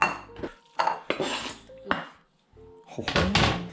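A bowl is picked up and set down in a kitchen while ingredients are prepared for Chinese spring rolls, several clear ceramic clinks and knocks with brief ringing, close and loud, separated by short pauses.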